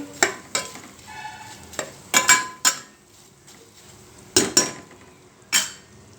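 A utensil stirs garlic cloves into okra fry in a pan, with sharp repeated scraping and clinking knocks at an uneven pace over a soft sizzle.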